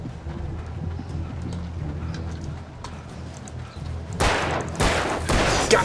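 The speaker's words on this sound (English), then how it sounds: "Got him. One last guy. Oh shit. Hurry up, Alan, reload." Gunfire from the video game Alan Wake: loud, sharp shots burst in near the end over a dense, busy game soundscape, with bright noisy blasts dominating the final seconds.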